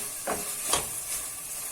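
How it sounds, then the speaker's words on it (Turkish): Diced carrots sautéing in a pot for Muradiye soup, a soft continuous sizzle with a couple of brief stirring scrapes, fairly faint and with no talking. "küp küp doğranan havucu da ekleyip kavurmaya devam ediyoruz"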